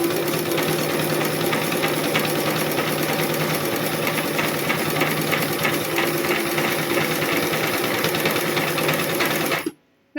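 An embroidery machine stitches a line at high speed, giving a loud, steady rapid mechanical whir and patter for nearly ten seconds before stopping abruptly.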